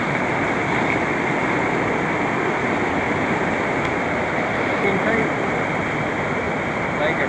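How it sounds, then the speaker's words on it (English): Roaring water of a stream rushing over its bed outdoors, a steady broadband wash that stays loud and unbroken throughout with no letup. "the roaring water"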